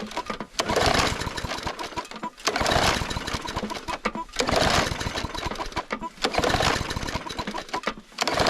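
A small gasoline lawn mower engine that sat out overnight at a remote Alaska cabin is cranked again and again, four long sputtering pull-start bursts with short pauses between, close and loud, the motor never catching.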